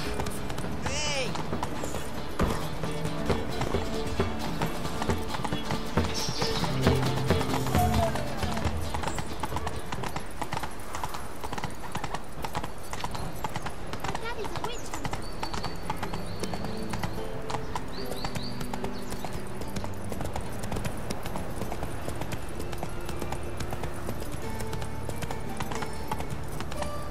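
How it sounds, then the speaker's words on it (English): Horse hooves in the video game The Witcher 3: Wild Hunt, a steady clip-clop running through the whole stretch under game music and ambience, with a brief voice near the start. "Whoa there, Roach"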